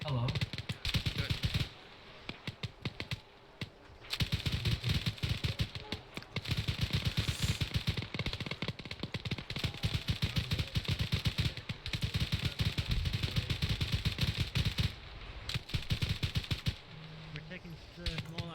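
Sustained small arms gunfire in Arma 3, rapid rattling bursts of rifle and machine gun shots one after another with brief gaps, loud and close, with voices talking over it.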